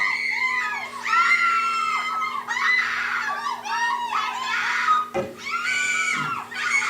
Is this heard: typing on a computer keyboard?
no